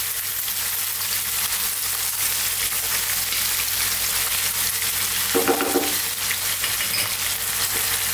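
Chopped onions with garlic and ginger paste sizzle steadily in hot oil for a chicken curry, a continuous close crackle with a brief stir or clatter partway through.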